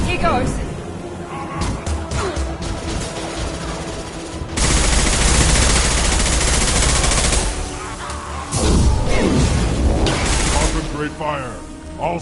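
Squad gunfire crackles in sustained bursts during a firefight in the video game Mass Effect 2, with booming volleys under loud shouted voices and game effects throughout.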